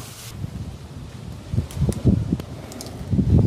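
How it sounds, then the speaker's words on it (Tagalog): Gusty wind buffets the microphone outdoors, a low rumbling roar swelling and easing with rustling bursts. "Lakas ng hangin."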